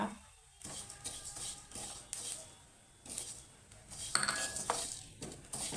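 Fenugreek seeds roasting in a pan give scraping and clinking of a spatula on metal, in several bursts of stirring with light crackle between, close and moderately loud.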